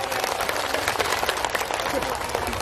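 Dense, steady applause from a religious lecture congregation in Lampung, filling a short stretch at even loudness with crowd murmur and voices mixed in.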